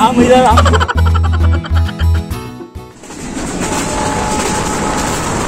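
A commuter train on its inaugural run on the Benapole–Jessore–Khulna–Mongla route in Bangladesh rumbles and clatters along the rails, loud and close, with rhythmic metallic clacks that give way to a steady rolling roar.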